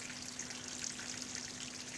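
Water trickles steadily through the trays of an automated barley fodder system, a soft, even flow with a faint constant hum underneath.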